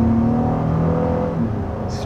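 A 2021 Honda Passport SUV with a 3.5-liter V6 engine pulls under acceleration, a steady close engine drone rising in pitch with no break across two seconds.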